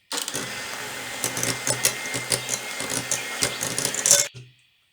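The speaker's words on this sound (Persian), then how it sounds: "حال باز با میکسر کریمون رو میزنیم" An electric mixer whipping cream for a Prague cake, a steady buzzing whir with rattling fluctuations that runs for about four seconds and then cuts off abruptly.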